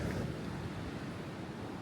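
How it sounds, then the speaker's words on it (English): Wind gusting and rain falling across open moorland in Brontë Country, West Yorkshire, a steady broadband rush that stays at an even level throughout with no voices. "seeing how windy and rainy it is here"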